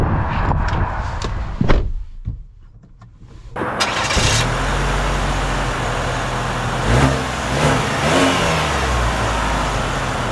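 A 2025 Cadillac XT4 Sport starting up and pulling away, the engine catching after a brief quiet then settling into a loud, steady, rising hum as the car accelerates.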